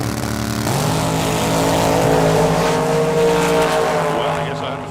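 Drag racing cars, a Mustang and a dragster, roar loudly at the track, their engine notes rising sharply in pitch as they accelerate and then holding as a sustained howl. An announcer's voice can be heard underneath.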